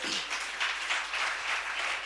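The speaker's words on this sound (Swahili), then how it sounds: "Makofi ya Yesu." A church congregation at a Kesha night vigil service claps together in a steady, fairly loud wash of applause, sustained and even throughout the short stretch, with no clear voices over it.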